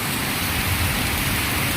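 Steady, dense rain hisses continuously, an even wash of falling water with no voices.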